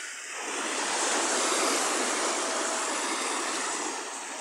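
Mediterranean Sea waves on a hot, sunny coast: a steady, broad wash of surf that swells and holds at moderate loudness, with no voices.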